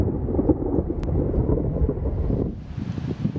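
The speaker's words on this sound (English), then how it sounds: "Oh, big lightning strike." Loud thunder rumbles continuously right after a big lightning strike during a tornado-warned storm with hail, a deep sustained roar that thins out near the end under rain and wind noise.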